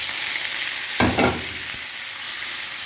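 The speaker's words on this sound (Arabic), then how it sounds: "هاي التومه بدنا نحرقها بعد ما شويه تحمرت" Garlic cloves sizzle steadily in a hot pan of oil, a close, loud crackle that swells briefly as they are stirred around.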